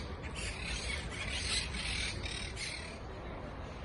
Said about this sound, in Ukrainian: Ось він там той папуга, порушник спокою.